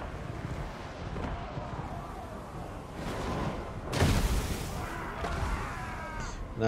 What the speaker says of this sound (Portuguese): Mas minha artilharia está quase nas últimas.